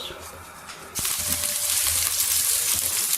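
Sliced onions hit a half cup of hot oil for homemade chicken biryani, setting off a sudden loud sizzle that keeps crackling steadily after a quiet start.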